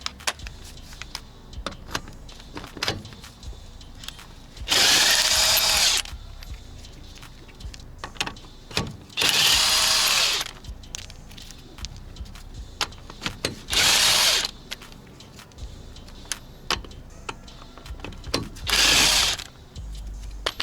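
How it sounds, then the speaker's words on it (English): A DeWalt impact drill removing lug nuts on a 1995 Daihatsu Hijet rattles in four loud bursts of a few seconds each, separated by quieter pauses with faint clicks and handling noise. "we can go ahead and use our DeWalt impact drill"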